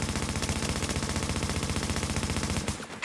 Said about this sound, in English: Fortification at Charlie is taking enemy fire.